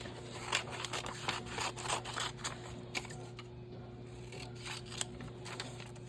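Paper is snipped with scissors in a quick run of close, crisp cuts over a low steady hum, with no talking.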